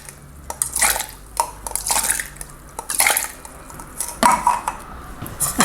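Fruits and vegetables being rinsed under running tap water in a kitchen demonstration, with irregular splashes, drips and light clinks of dishes or utensils, close and fairly loud, no talking.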